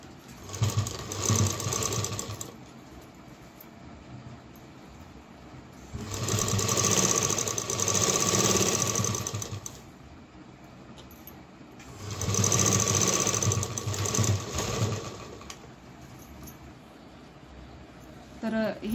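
A sewing machine stitching the back neck of a blouse runs in three steady, rapid-clattering bursts of a few seconds each, with someone talking between and over the runs.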